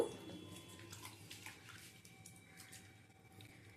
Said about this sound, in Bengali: এবারে গ্রেট করে নেওয়ার পরে আরও একবার ধুয়ে নেব।